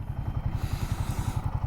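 A 2024 Royal Enfield Himalayan 450 engine thumps in a fast, regular pulse while riding off-road, loud and close with steady rhythm.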